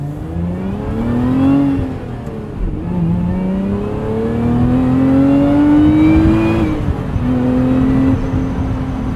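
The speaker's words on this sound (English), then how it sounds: "Playing with the RPMs and that supercharged V6 is just so fun, so satisfying." A Lotus Emira's supercharged V6, paired with a six-speed manual, revs up and down repeatedly, its engine note climbing and falling in smooth sweeps, loud and steady from inside the cabin.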